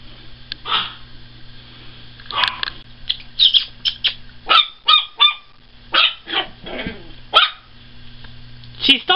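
Ewok puppies yip and bark in short, excited bursts at close range, with honk-like squeals between them, while a person talks to them.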